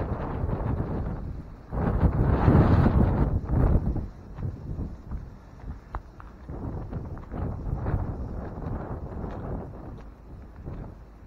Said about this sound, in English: I sure wasn't expecting all this wind today.